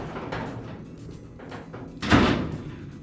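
A custom deck lid on a 1927 hot rod closes with a single solid thud about two seconds in, following faint shuffling and handling noises in a quiet shop.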